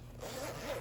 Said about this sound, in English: It zips all around.